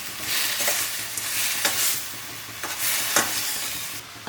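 Tomatoes fry and sizzle in a pan with ghee and turmeric, a steady close hiss broken by several scraping stirs of a spoon, with no voices.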